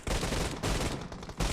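Continuous gunfire in a battle royale esports grand final match, a dense, loud fusillade of rapid shots with brief gaps between bursts and no talk.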